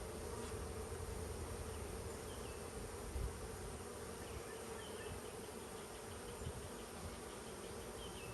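A bee buzzes outdoors against a constant droning insect background, a steady, fairly faint hum that swells briefly near the middle and carries on without speech.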